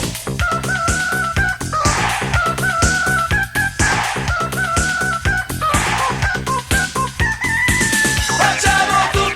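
A rooster crows repeatedly over a loud, driving dance track with a heavy pounding beat, the cock-a-doodle-doo calls rising above the music every couple of seconds.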